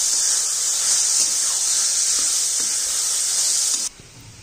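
Green peas tipped into tomatoes already frying in a pan for a paneer curry give a loud, steady close-up sizzle and hiss that runs for several seconds, then suddenly drops away.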